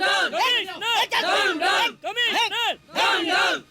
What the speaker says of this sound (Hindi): सर बाहर भीड़ बढ़ती जा रही है